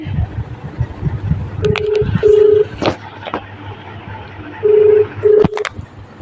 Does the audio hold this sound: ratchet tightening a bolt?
no